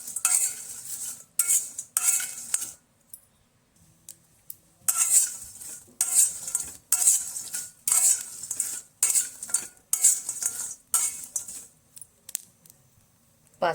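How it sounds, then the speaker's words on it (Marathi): Mace (javitri) dry roasting in a kadhai, stirred with a metal spoon: repeated scraping and rattling strokes in short rhythmic bursts with brief pauses between, close and moderately loud. "जावित्री घालते आणि मायपत्री, हे दोन्ही छान अशा भाजून घेते."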